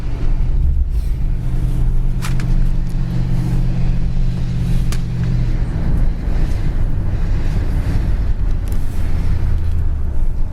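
A 1964 Chevrolet Impala with manual drum brakes cruises down the road, giving a steady low interior rumble of engine and road noise mixed with wind, with no talking.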